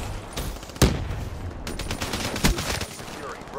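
Man-O-War rifle gunfire in a multiplayer video game cracks out in a few sharp, loud shots amid ongoing game noise, with a player talking over it.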